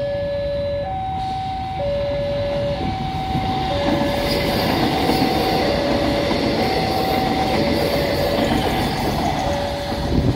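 A KCJB high-speed rail feeder train passes from Padalarang toward Bandung station with a loud, steady rumble close by, while a two-tone horn sounds repeatedly over it.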